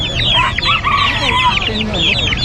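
Many chicks cheep and peep busily while chickens cluck underneath at a pet market, a dense, close chorus of poultry.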